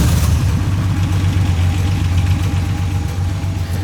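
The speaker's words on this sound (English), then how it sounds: "we have an M&M custom exhaust to give it that throaty, just perfect sound to the engine" Porsche 964 backdate engine running through an M&M custom exhaust, a steady throaty low rumble with a pulsing rhythm, loud and close and continuous, with no talk over it.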